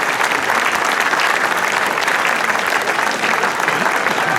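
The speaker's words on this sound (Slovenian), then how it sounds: "ki ga z aplavzom pospremimo na oder" Loud, dense applause from a festival awards audience welcoming the local mayor to the stage, a steady wash of many hands clapping without pause.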